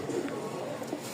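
Pigeons cooing at a Mirpur-1, Dhaka pigeon market, a soft low cooing running steadily through the short stretch amid faint market background.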